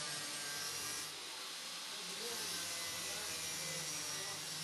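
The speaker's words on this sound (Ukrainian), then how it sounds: "тож в хід пішла болгарка." An angle grinder cuts through a stubborn door bolt as a locksmith breaks into an apartment, giving a steady, harsh, grinding whine that runs loud and unbroken throughout.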